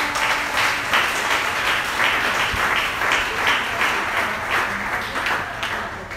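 A church congregation applauds together in a steady, dense wash of clapping with a faint rhythmic pulse, loud and sustained throughout.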